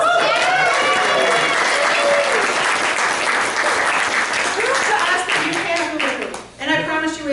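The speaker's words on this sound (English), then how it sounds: "So let's give him a round of applause." An audience applauds steadily at a talk on goal setting, a loud dense wash of clapping filling the whole stretch, with a few people speaking and calling out over it.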